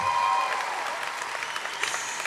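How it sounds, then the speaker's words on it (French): An audience at a Kids Voice Tour final in the Stravinski hall in Montreux applauds a girls' band, a dense steady clapping that stays loud and even throughout. "Et ça s'applaudit."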